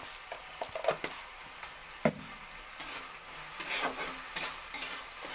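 A softened mixture with added sugar is stirred in a sizzling pan, a continuous fry hiss punctuated by knocks and scrapes of the spoon against the pan, no talking.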